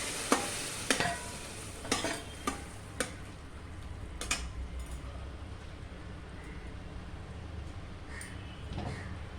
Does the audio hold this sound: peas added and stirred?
yes